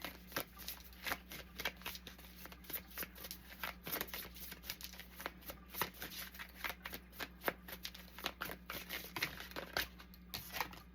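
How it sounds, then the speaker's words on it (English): Tarot cards are shuffled continuously up close, a rapid crisp riffling and flicking with no talking. "Okay, we're gonna get 2 more shuffles."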